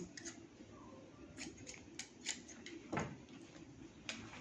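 Scissors cutting trouser fabric along the side seam, a series of quiet crisp snips at irregular intervals, close but faint against a low room hiss.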